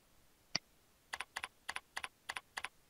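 Someone types a username on a computer keyboard: one sharp keystroke, then a steady run of about a dozen crisp, close clicks in quick pairs in a quiet room.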